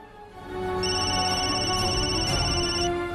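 A phone ringback tone plays on an unanswered call: a steady electronic ringing with a high beeping layer, loud and close, lasting a couple of seconds.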